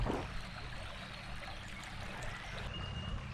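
The River Cock flows under a modern bridge at Towton, a steady close rushing and trickling of water that runs without a break.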